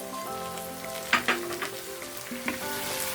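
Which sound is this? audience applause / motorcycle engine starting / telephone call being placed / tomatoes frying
tomatoes frying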